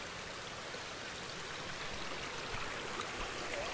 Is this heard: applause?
no